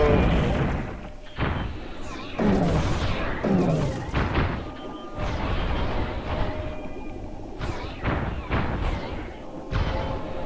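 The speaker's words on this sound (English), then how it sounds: "Stop shooting me with missiles." Missiles launch and strike ships in the space combat game Space Pirates and Zombies, giving a rapid series of heavy booms and thuds that overlap throughout.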